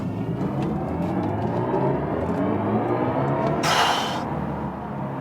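A BMW i4 M50 electric car accelerates in its strongest sport boost mode, a continuous rising whir and road rumble heard from inside the cabin, with a brief broadband rush of wind noise near the end.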